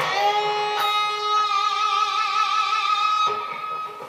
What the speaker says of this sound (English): you can use your tremolo if you like. You can really, get it, wang it around a little bit so it sounds like this